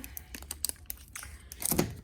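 Random plastic bags, Ziploc bags and other packaging crinkle and rustle in a string of short, close bursts, louder crackling near the end.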